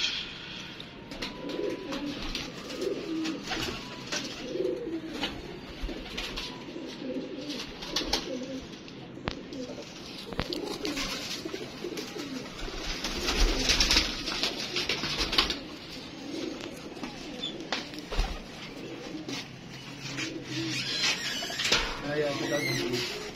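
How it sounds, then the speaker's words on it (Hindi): Domestic pigeons, including white and golden birds kept by a pigeon fancier, coo repeatedly at close range throughout, under steady conversation between men. "ये भी सफेद कबूतर है"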